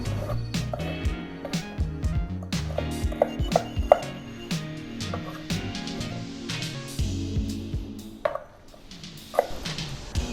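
Knife cutting sliced onion on a cutting board while cooking, a series of crisp irregular chops close by, alone without talk.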